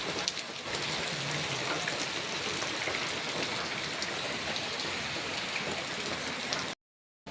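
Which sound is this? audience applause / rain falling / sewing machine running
rain falling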